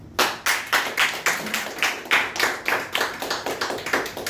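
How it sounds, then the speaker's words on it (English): Clapping at a network marketing business opportunity talk, a steady run of about a dozen distinct, evenly spaced claps, close and fairly loud, with no talking. "now give yourself an applause for that"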